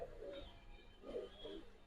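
Pigeons at a pigeon farm give soft, low cooing calls in two or three rounded bursts, faint and fairly close against a quiet background with no talking.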